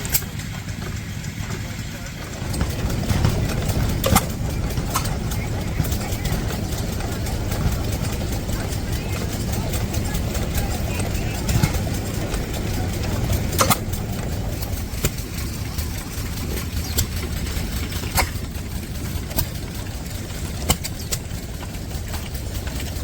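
A New Holland single-flywheel stationary engine runs near, with a steady low chugging throb and occasional sharp knocks. Someone talks over it.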